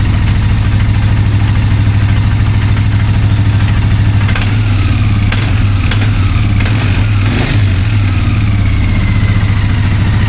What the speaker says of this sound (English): just adjust the idle a little bit